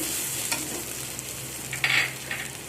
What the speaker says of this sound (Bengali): দু মিনিট ভালো করে আমি আদা আর রসুন আর পেঁয়াজ ভালো করে কষিয়ে নিয়েছি।